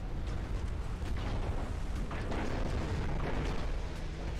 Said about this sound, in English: that's one battleship cooking off